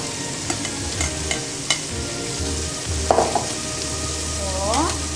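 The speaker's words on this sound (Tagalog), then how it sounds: "kumukulo na yung tubig ng para sa bulaklak ng katuray" Sesban (katuray) flowers bubble in a pot of boiling water, giving a continuous seething, sizzling noise. Scattered clinks and scrapes of a utensil against the pot are heard, with no speech.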